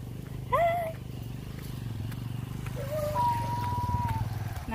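A cat purrs steadily in a continuous low rumble close by, with a couple of rising meows breaking through, outdoors near a river on the way to a riverside viewpoint.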